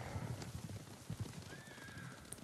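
Horses in the samurai video game Ghost of Tsushima clatter in a quick, uneven clip-clop of hooves while a faint whinny rises briefly, all fairly quiet and without talk.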